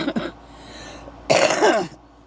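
A single throaty cough or throat-clearing burst, close and fairly loud, following a short quiet stretch with a brief earlier rasp.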